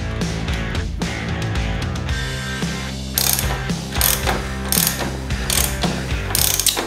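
Ratchet clicking steadily while tightening the front axle nut of a Ducati Panigale V4 motorcycle, rapid loud pawl clicks in repeated bursts, close and alone with no talk.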